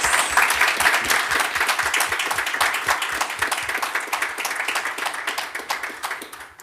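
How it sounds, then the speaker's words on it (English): Audience applause for panelists at the end of a technology policy discussion event, with brisk, fairly loud clapping from a medium-sized crowd, individual claps audible within the wash, tapering slightly toward the end. "give a big round of applause for our lovely panelists"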